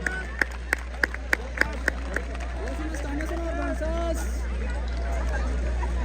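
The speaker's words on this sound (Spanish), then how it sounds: "Regálenme el aplauso fuerte, sí señor." A village festival crowd in Santa Fe de la Laguna greets a bull rider with a few sharp claps, then a broad wash of applause and crowd noise, while an announcer talks over a loudspeaker.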